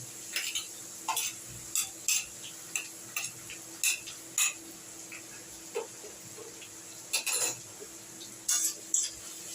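Chopped ginger stirred in a pan while making egg tadka: intermittent scrapes and metallic clinks of a utensil over a faint sizzle.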